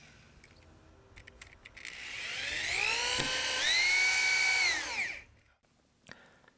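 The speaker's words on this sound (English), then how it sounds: "Now secure the 3 support beams with 2 3-inch screws per end." A power drill drives 3-inch screws into the support beams of a halfpipe deck, its whine rising in pitch and holding steady for a few seconds before spinning down, with brief clicks before and after.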